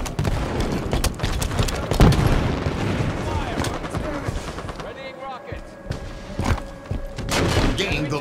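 Sniper rifle fire in the multiplayer video game Halo 5: a loud, punchy shot stands out amid a busy battle of repeated gunfire, thuds and game announcer voice callouts.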